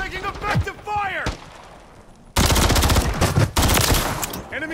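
Loud machine-gun fire in a video game firefight, sustained rapid bursts taking up the latter half, preceded by shouted voices and a few single shots.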